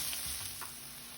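Onion and garlic sautéing in a pan for shrimp fried rice, giving a constant close sizzle with a couple of soft stirring scrapes.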